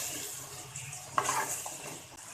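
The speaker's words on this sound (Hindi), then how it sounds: "प्याज को अच्छे से भून लेंगे चूल्हा तेज करके।" Onions sizzling as they fry in a pan over high heat for a spice masala, with steady crackling and stirring and a brief sharper clatter partway through.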